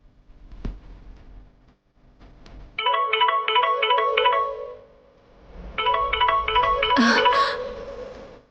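A mobile phone plays a melodic ringtone for an incoming call, in two bursts of rapid repeated tones with a short gap between them, fairly close and clear.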